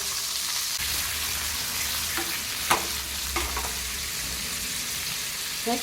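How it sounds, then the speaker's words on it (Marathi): Paneer cubes sautéing in hot oil in a pan for palak paneer, a steady close sizzle and hiss throughout with a few soft stirring scrapes. "पॅनमध्ये तेल घेतलेलं आहे आता आपण आता पनीर थोडंसं परतून घेऊया"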